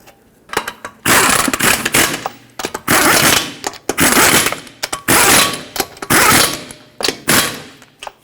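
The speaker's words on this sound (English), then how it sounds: "And now start in all 5 of your lug nuts." An impact wrench runs in loud, repeated bursts, stopping and starting as it tightens the front wheel lug nuts on a 2006-2010 Hyundai Sonata, close by with no talking.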